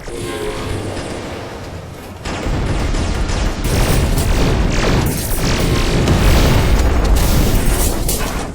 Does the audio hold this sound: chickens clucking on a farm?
no